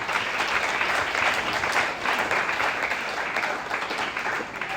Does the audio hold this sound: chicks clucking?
no